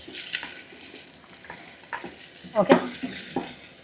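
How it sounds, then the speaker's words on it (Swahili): Onions frying in palm oil for a Nigerian okra soup, a bright continuous sizzle with stirring clatter and a couple of sharper pops near the end, under brief talk. "Vitunguu maji tunakaanga."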